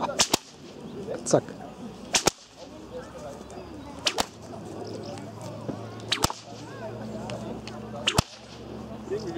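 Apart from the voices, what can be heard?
paracord whip cracking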